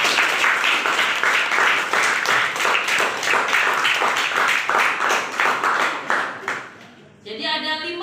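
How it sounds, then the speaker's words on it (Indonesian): A classroom of students claps for a classmate: loud, dense applause fills most of the clip, then fades out near the end. "Kasih aplaus untuk Najwa."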